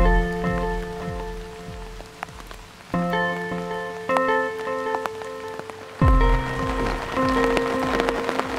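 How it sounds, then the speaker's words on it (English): Heavy, steady rain pours down at a carp fishing pond during an overnight session, a constant patter running under a sustained tonal layer. "it literally has not stopped raining all night long"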